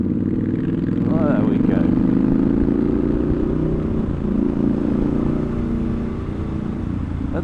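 Triumph Scrambler 1200XE motorcycle ridden through a series of bends, its engine droning loud and close under heavy wind rush, the pitch rising and easing with the throttle while a rider speaks briefly.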